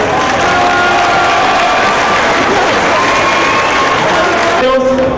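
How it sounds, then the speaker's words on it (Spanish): Crowd applause at an outdoor political rally in Chicoloapan, loud and steady with cheering and shouting mixed in, a broad wash of clapping throughout and a voice rising near the end. "un aplauso para la asociación"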